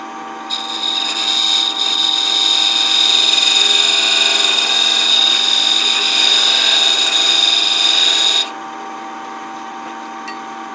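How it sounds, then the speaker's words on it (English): A beading tool cuts into a Palo Santo wood threaded box on a lathe, giving a loud, steady, tonal scraping whine that runs for about eight seconds over the lathe's hum, then stops abruptly, leaving the motor humming on alone. "I think I'll use the beading tool for that."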